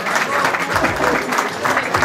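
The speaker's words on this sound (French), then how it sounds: "on les applaudit très fort." Steady applause from a crowd, dense and continuous throughout, with no clear gaps between claps.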